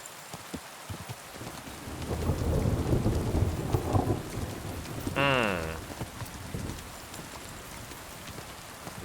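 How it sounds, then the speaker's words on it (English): Rain and thunder in the video game Kingdom Come: Deliverance II: a steady downpour hisses throughout while a deep, rolling thunder rumble swells and fades across the middle. "Nice lightning sound."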